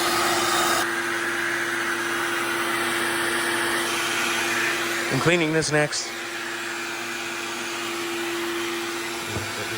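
A vacuum cleaner hums steadily while cleaning a Nissan car's interior, a constant whirring drone that briefly lets up as a person speaks a short phrase over it, then resumes at the same level.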